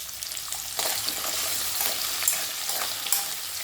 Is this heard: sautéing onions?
yes